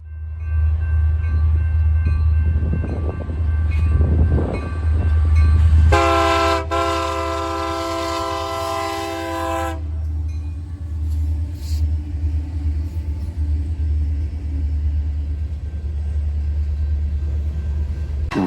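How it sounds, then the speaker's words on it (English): Two Union Pacific SD70M diesel locomotives on the Sioux City subdivision rumble past loudly with a low engine drone, a long sustained horn blast in the middle, then continuing wheel and engine rumble. "In typical UP fashion, I'm greeted by two"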